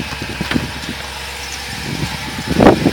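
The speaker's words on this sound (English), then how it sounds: "Great sound that comes out of these dual exhausts." A 2015 Jeep Grand Cherokee SRT8 idling through its dual exhausts, a low steady rumble nearby with a brief louder revving burst near the end.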